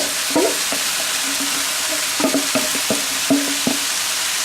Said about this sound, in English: I'm gonna add in the rice. Still got lots of vegetables, peas, carrots, and green onions.